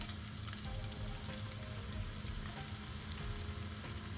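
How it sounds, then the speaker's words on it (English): Shrimp frying in hot oil give off a steady, dense crackling sizzle with fine popping spatters, even and close throughout with no voices. "Get it nice and crispy. And just let it fry till it's ready."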